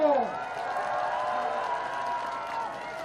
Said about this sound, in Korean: 약속을 잘 지켜주시라고 큰 박수로 보내주십시오